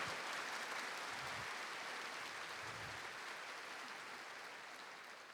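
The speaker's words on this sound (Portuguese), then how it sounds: "Aplauda esse Deus que está nos chamando à conversão" Faint, distant congregation applause at a church service, a steady wash of clapping that slowly tapers off.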